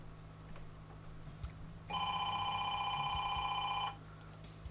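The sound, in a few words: phone ringing in video game 18 Wheels of Steel: Extreme Trucker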